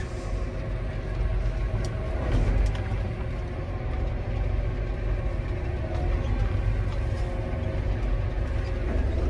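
A John Deere 8330 tractor drones steadily with a loud, continuous low engine rumble as its transmission shifts up through the gears on its own, with no clear break in the sound.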